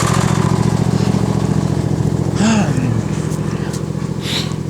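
A John Deere tractor engine idles steadily and close by, its low, even chugging rumble holding without a break through the whole stretch and a brief whistle-like tone rising over it midway.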